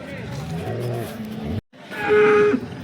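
A cow at the Sangola cattle market lets out one loud, drawn-out moo after a stretch of background voices and a brief silence.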